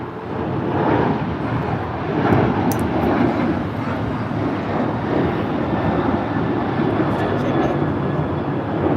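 Alaska Airlines airliner at LAX, a steady broadband engine roar holding loud and even throughout, with no pauses or distinct events.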